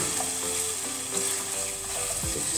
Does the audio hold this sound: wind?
no